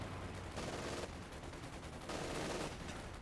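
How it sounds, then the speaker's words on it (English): Machine-gun fire from a Panzer Grenadier squad's 250 half-track in Company of Heroes 2: two faint, sustained bursts of rapid shots amid steady low battle noise. "Panzer Grenadiers just gunning people down from the comfort of their little 250"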